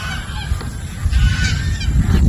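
A gaggle of geese honks loudly and close by, with overlapping harsh calls at a rural spot in Naic, Cavite, Philippines, where ducks are also kept. No speech is heard.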